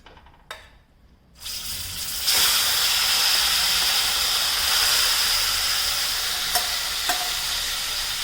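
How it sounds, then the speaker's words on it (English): A loud, steady sizzle of chicken pieces frying in hot oil bursts in after a moment of quiet and keeps hissing close up. "I'm heating up the oil here. I will be adding the chicken pieces right now."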